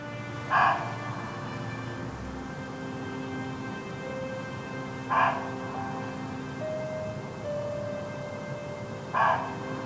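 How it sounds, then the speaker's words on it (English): A muntjac deer barks in woodland, three sharp calls spaced evenly a few seconds apart, moderately distant over a quiet background hum. "Munkjack was noisily barking behind me."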